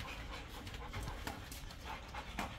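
A pit bull pants rapidly and steadily at close range, with quick rhythmic breaths continuing throughout.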